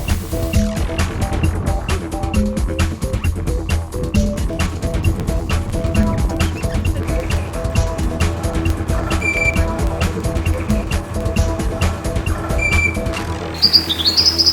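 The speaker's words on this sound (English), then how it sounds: "At O'Reilly's Guest House, where Heidi enjoys some of the bird life and Richard looks on." Birds chirp repeatedly in rainforest bushland at a guest house in Lamington National Park, Australia, over a steady low rumble, with brief tonal calls standing out near the end.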